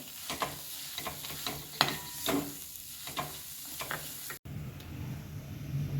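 Carrot barfi mixture with dry fruit and crushed cardamom stirred in a hot pan: soft, repeated scraping strokes over a faint steady sizzle, close and quiet, with no talking.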